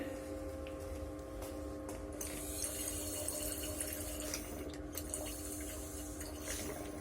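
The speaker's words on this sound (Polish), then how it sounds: "Dodamy trochę wody." Water is poured into a glass beaker holding a pink potassium permanganate solution during a chemistry demonstration, a faint, steady splashing trickle over quiet background noise.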